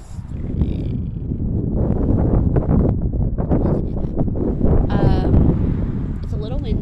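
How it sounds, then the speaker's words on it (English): Steady, rough wind buffets the microphone outdoors on a humid, rainy morning, a continuous roar with brief rustling bursts. "It's a little windy."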